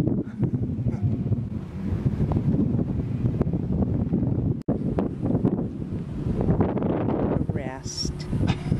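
Wind blowing hard across the microphone outdoors at a state park, a constant low rumbling buffet filling the whole stretch, with people talking now and then underneath.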